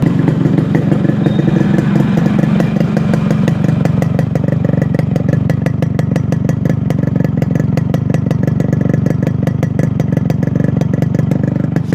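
A restored Yamaha RX100 two-stroke motorcycle engine idles steadily and loudly up close, its rapid even beat continuous throughout with no talking.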